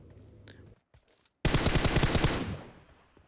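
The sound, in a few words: gunfire in Livik battle royale video game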